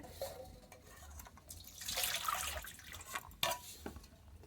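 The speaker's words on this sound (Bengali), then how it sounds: "আবারও খুব ভালো করে ধুয়ে নেব" Cut green beans being washed again by hand in a bowl of water, a faint close sloshing and splashing with soft clatters of the container and a brief stronger swirl midway.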